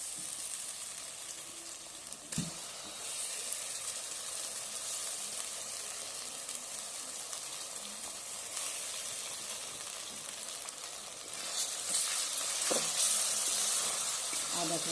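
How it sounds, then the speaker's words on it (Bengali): Ginger and garlic frying with browned onions in a pan for chicken biryani, a steady broadband sizzle running throughout, a couple of sharp stirring knocks and a brief louder crackle near the end, no talk. "আদাটাকে দিয়ে একটু একটু ভালো করে একটু ভাজবো"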